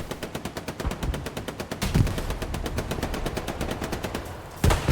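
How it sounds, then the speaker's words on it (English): Rapid turret gunfire in Hell Let Loose comes in a long, fast, evenly spaced stream of sharp shots, pauses briefly, and then a heavier report cuts in near the end. "multiple turret shots"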